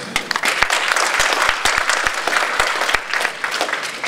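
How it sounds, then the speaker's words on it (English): An audience at a comedy show at Anthrocon 2011 breaks into applause, a lively spread of individual sharp claps over a full crowd patter, close and sustained. "Clap if you know what that means"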